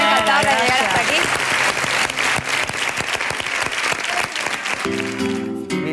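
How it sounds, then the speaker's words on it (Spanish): Loud, dense applause from a studio audience at a televised talent show gala, with cheering voices mixed in and music entering near the end. "Fuerte aplauso."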